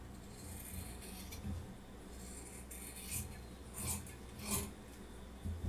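Scissors slice through blouse fabric in a quiet tailoring session, with faint, intermittent crisp snips and rasping cuts spaced a second or so apart.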